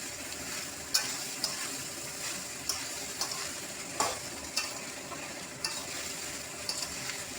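Rice being added to a frying pan with carrots and raisins and stirred, giving a steady sizzle broken by sharp scraping clicks of the spoon every second or so.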